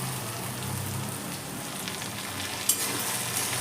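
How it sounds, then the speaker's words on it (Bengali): Ground mustard paste fried with onion in a pan, spluttering fiercely over a dense, continuous crackling sizzle like heavy rain, close and steady with a single sharper pop near the end. "গ্যাসের ফ্লেমটা কম করে দিলাম, প্রচণ্ড ছিটকাচ্ছে।"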